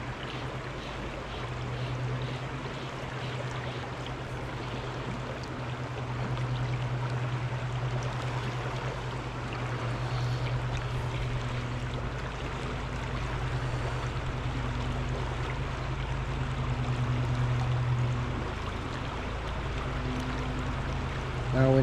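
The river Ayr flowing in summer conditions good for salmon, a steady broad rushing wash of water, continuous and fairly close, with a low hum running beneath it.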